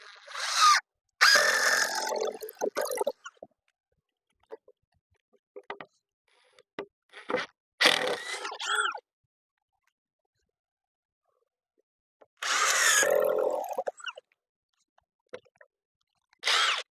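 Power drill driving screws during a deck roof build, with short bursts of whirring separated by silent gaps and faint clicks, close by and without talk.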